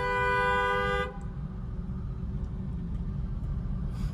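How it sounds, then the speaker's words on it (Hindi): A car horn sounds one long, loud, sustained honk for about a second during a driving lesson on a road beside a side lane, then cuts off, leaving the low rumble of the moving car. "लॉन्ग हॉर्न पुश करो"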